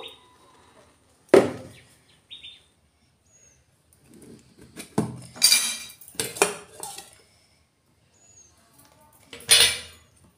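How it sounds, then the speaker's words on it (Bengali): A hot metal tiffin container is lifted out of a steaming pot with a kitchen towel, giving a few sharp metallic clanks and clinks in separate bursts, close and fairly loud against a quiet kitchen. "খুব সাবধানে কিচেন তাওয়াল দিয়ে কৌটোটা বের করে নেব"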